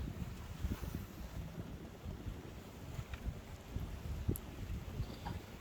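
Rough open sea around a fishing trawler out after hilsa: a steady rushing wash of waves breaking against the hull, with low thuds and wind buffeting the microphone throughout, no voices.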